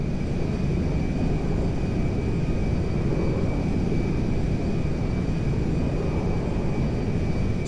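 A Merryweather jet flying in Grand Theft Auto 5, a loud, steady engine roar with a constant whine on top, continuous and close, no voices.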